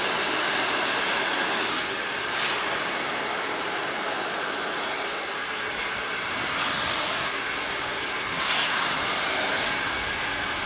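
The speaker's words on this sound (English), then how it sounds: "Let the blow dryer do the work for you, and you just glide with your brush." A blow dryer runs steadily and close up as hair is dried and brushed, giving a continuous breathy whoosh with slight swells as the airflow shifts.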